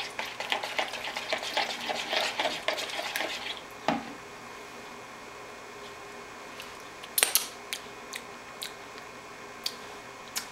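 Spoon or utensil briskly stirring and whisking a sweet, spicy sauce in a bowl for chicken rice stir-fry, close rapid scraping clatter for a few seconds, then quiet with a few isolated taps and clinks.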